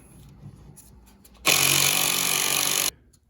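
An impact gun rattling off brake caliper bolts on an Infiniti during rear brake work, one loud continuous burst of about a second and a half, up close, with quiet shop noise before and after.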